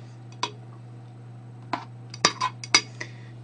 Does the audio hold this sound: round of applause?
no